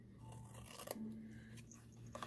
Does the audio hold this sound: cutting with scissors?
yes